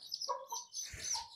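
A desi chicken chick at home peeps in a short, close burst of high chirps, with soft rustling beneath and no talk.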